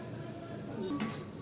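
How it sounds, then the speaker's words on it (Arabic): Garlic frying in ghee and oil bubbles and sizzles steadily, with faint stirring scrapes and a brief brighter hiss partway through, the pan close and at moderate volume. "هيتحمر بقى التومه فيها كده"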